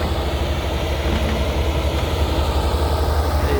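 A Sumitomo S260 F2 excavator's diesel engine running at idle, a loud, steady low rumble with constant mechanical drone close to the machine and no talk.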